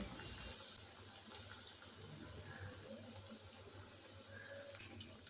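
Drumstick flower fritters frying in hot oil: a soft, steady sizzling hiss with a few faint pops and crackles, quiet and close.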